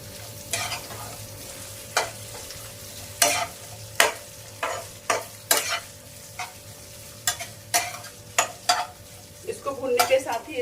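Bitter gourd with mango being lightly fried in a pan, a spoon stirring it in repeated sharp scrapes and knocks over a low steady sizzle, with a louder burst of frying toward the end.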